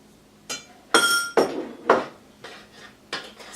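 A spoon clinks and clanks against a cooking pot as walnuts are stirred into thick homemade fudge: half a dozen sharp, close metallic knocks in an uneven rhythm, with no talking.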